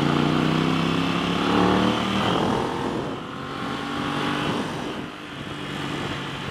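An Aprilia motorcycle, a 2021 RS 660 or Tuono V4 1100 Factory, roars steadily on a test ride, its engine note rising and falling close to the microphone over continuous wind and road rush, with no talk.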